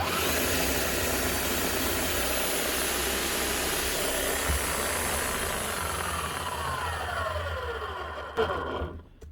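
A worn Bosch GSH11E demolition hammer with bad bearings runs rough and loud, a dense steady mechanical roar that holds throughout before cutting off with a brief clunk near the end.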